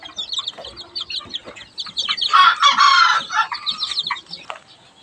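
Golden Sebright bantam chickens cluck in a busy, close chorus of short calls, with one louder burst of squawking in the middle, and no talking.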